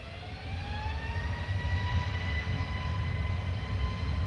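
EasyJet Airbus A321neo rolling along the runway at hazy Tenerife Airport, a steady broadband jet engine roar with a rising whine, fairly loud and continuous throughout, no voices.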